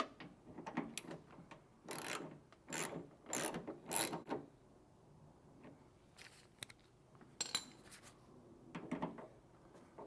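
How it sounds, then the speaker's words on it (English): Ratcheting wrench tightening a bolt on the door handle of a 2003 Toyota Matrix, heard as quiet bursts of rapid mechanical clicking in short strokes with pauses between. "You just have to tighten this bolt right here."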